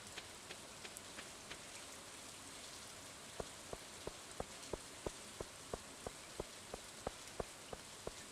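Rain in the video game Stardew Valley, a soft steady patter with regular sharp droplet ticks in an even rhythm, quiet and without talk.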